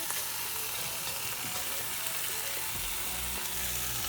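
An egg with pepper jack cheese sizzles and fries steadily in a pan, making a soft continuous crackle with occasional light scraping.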